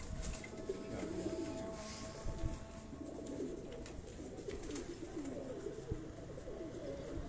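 Pigeons coo softly amid a dense, noisy outdoor backdrop of rustling and fluttering, with faint bird calls scattered through the clip and no clear speech.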